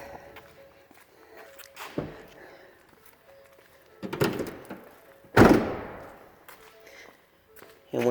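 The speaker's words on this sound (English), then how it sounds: "You can swing your doors back shut." Two solid thuds of a 2019 Ford Transit 350 wheelchair van's rear doors swinging shut, a few seconds apart, with light shuffling footsteps and rustling in between.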